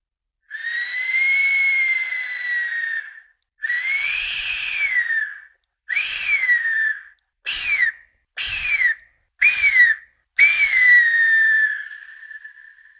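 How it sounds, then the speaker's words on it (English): An ancient death whistle, a wind death resonator, blown in seven shrill, noisy screeching blasts, each rising then sliding down in pitch, loud and close, with short silent gaps and a long fading final cry. "Its noisy sounds are the first recordings of any ancient death resonator."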